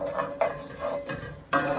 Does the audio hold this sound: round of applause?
no